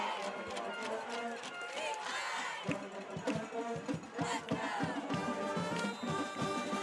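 Crowd noise in the stands at a high school football game, a loud continuous roar of many voices with shouts and cheers rising and falling, people talking close by over it.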